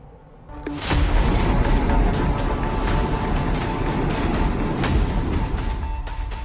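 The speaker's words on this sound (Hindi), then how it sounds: "अफगानिस्तान की राजधानी काबुल धमाकों की गूंज से दहल उठा।" An explosion in Kabul, Afghanistan, erupts suddenly into a loud, sustained roar of rumbling noise that persists with a few sharp cracks, heard from news footage.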